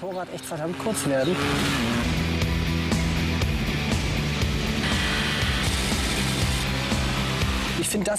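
A Kawasaki ZX-10R or Honda Fireblade superbike engine screams at speed on a track, a loud sustained high-revving whine with shifting pitch and a brief gear change, held steady for several seconds.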